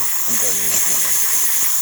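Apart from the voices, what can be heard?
steam from DeLonghi Magnifica coffee machine steam wand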